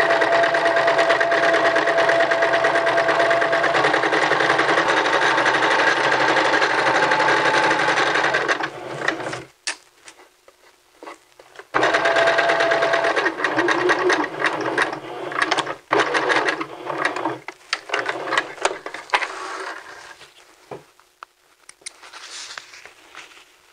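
A sewing machine stitches the edge of a men's vest in a loud, steady run lasting about nine seconds. After a short pause at the pivot point, a second run starts and then fades into lighter, intermittent stitching.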